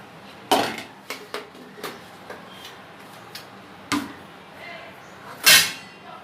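Kitchen utensils and metal dishes clattering as they are handled and stacked, a run of separate clinks and knocks with one loud clang near the end, with faint background talk.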